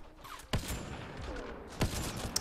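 Two sharp gunshots from the Mass Effect Andromeda video game ring out about a second apart, each a sudden loud crack over a steady background of game ambience and low rumble.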